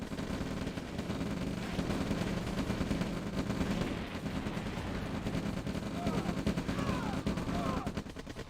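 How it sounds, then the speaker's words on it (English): Rifle fire in OpenRA Red Alert, rapid dense bursts of small-arms shooting over a busy battle din, continuous and moderately loud, with a voice talking over it. "Unfortunately, fences do not block rifle fire."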